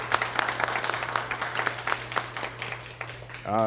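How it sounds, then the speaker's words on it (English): A school audience applauds elementary students after their Destination Imagination performance, a patter of claps spread through the room with a steady low hum underneath, ending in a brief electronic warble. "Can we give them another round of applause, please?"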